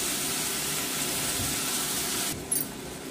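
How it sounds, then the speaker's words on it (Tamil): Onions sauté in a pan with a low, even sizzle that continues throughout, and a brief clatter comes near the end. There is no talk. "வெங்காயத்தை நல்லா வதக்கி விடுவேன், வதங்கி வரட்டேன்."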